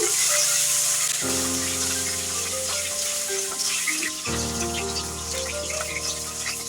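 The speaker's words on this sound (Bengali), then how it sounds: "ফুলকপিটাকে একটু ভেজে নিচ্ছি" Cauliflower pieces frying in oil that was used for frying nuts, a loud close sizzle with stirring scrapes over a steady low mechanical hum.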